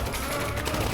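Gunfire during street defence training, a dense burst of rapid loud shots packed into a single second, with voices faintly underneath.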